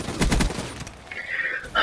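Call of Duty: Black Ops III gunfire ending in a headshot kill: a rapid automatic volley of close, loud shots, a short lull with a higher game tone, then one more loud hit at the end, with no talk.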